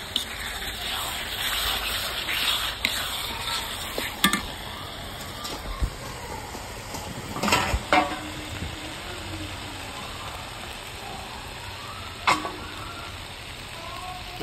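Potatoes sizzle and fry in a pan of chicken kosha, a soft steady hiss with occasional stirring clatters and brief louder bursts, no voices.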